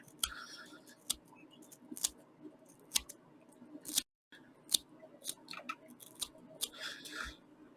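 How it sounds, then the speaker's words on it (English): Sharp, close snips of scissors tips cutting thread while tying a fly repeat at a steady pace, roughly once a second, with soft rustling between cuts and no talking. "And I just use the tip of the scissors here."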